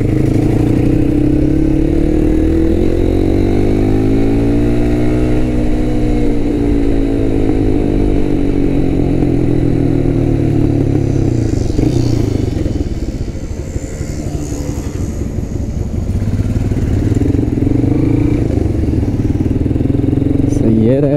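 Two motorcycles, a KTM Duke 200 and a Royal Enfield Himalayan, rumble nearby on an offroad ride, their engines idling and revving in rising and falling sweeps, with voices talking over the steady engine noise.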